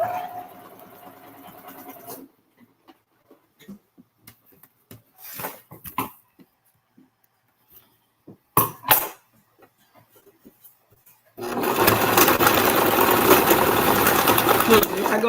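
A sewing machine stitches a fabric wine tote bag. Quiet handling clicks come first, then a loud, steady, continuous run of rapid stitching fills the last few seconds, with brief talk near the start.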